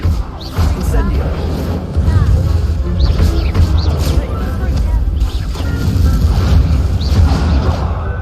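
Incendio fire spell cast in a Hogwarts video game, heavy low booming and crackling bursts layered over dense game noise, loud and close, with a voice calling out spell names.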